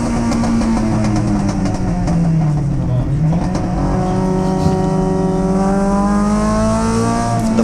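Group S MGB race cars lap the Winton circuit, engines droning and sweeping past with rising and falling pitch, loud and continuous, while a commentator talks over the racing.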